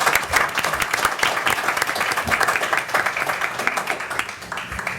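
A city commission meeting room fills with steady clapping from a modest crowd, sustained and moderately loud for several seconds.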